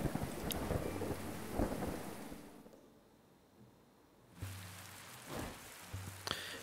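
Steady rain with rolling thunder in a video game, loud and continuous, dropping to a near-silent lull midway before the downpour and rumbles return.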